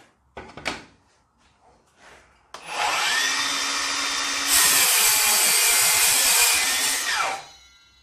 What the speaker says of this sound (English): I'm just going to demonstrate cutting some 90 by 35 kd hardwood